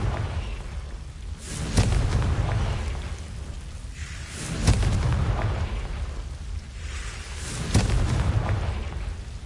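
Three heavy booming blasts from the Confringo explosion spell in Hogwarts Legacy roll out roughly every three seconds, each a sharp crack followed by a deep rumbling tail, loud and close with no speech.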